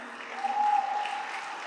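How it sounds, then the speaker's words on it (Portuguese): An audience at a Christmas sermon claps in a short burst of applause that sounds somewhat muffled and distant. "Pode aplaudir."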